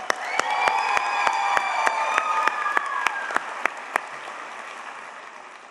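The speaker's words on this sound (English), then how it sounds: "One more round of applause for Morgan Humphreys." An audience at a Teacher of the Year celebration applauds an honoree with a steady, dense wash of clapping and a few sharp, louder claps standing out near the front. Some cheering rises early, then the applause gradually thins toward the end.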